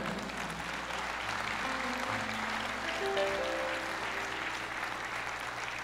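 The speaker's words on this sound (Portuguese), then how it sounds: "aplauda o Senhor" A church congregation breaks into sustained, dense applause, many hands clapping together evenly for several seconds at a steady level.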